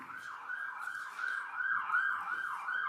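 Emergency sirens pass outside a Massachusetts courtroom, a steady wailing tone rising and falling in repeated sweeps for the full three seconds, fairly loud and gradually swelling as the vehicles go by, with no talk over it.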